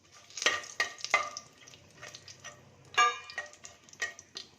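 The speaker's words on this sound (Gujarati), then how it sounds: "આપણા ખડા મસાલા એકદમ સરસ અંદર રોસ્ટ થઈ ગયા છે" Whole spices, cinnamon, cloves and dried red chilli, dry-roast in a pan for mixed-dal khichdi, giving sharp, close scraping clicks and stirring rattles in irregular bursts, with no talking.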